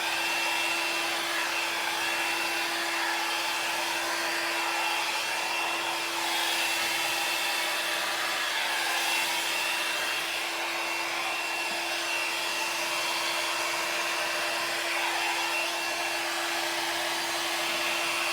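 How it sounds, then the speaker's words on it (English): A small handheld blow dryer runs on its high setting, used to push paint across a Dutch pour fluid-art canvas; a steady, loud whooshing drone holds unbroken and close for the whole stretch, with no talking. "I have a little blow dryer, so I put it on high."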